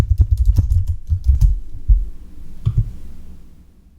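Fingers type an email address and license key on a computer keyboard, a rapid close run of soft clicking keystrokes with short pauses that taper off toward the end, no speech.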